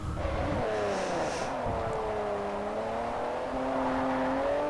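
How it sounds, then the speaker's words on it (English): A BMW M1 engine in the video game Forza 4 gives a loud, steady drone with a high whining tone, holding a sustained pitch that dips slightly and rises again, with a brief shift near the start. "Judging by that noise, that would be a M1."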